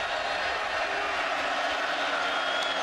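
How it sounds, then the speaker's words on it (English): A packed football stadium crowd at a 2019 Cal Golden Bears vs. Ole Miss game roars steadily on third down, a dense, continuous wash of cheering that holds level throughout. "here comes the crowd trying to get behind this Ole Miss defense"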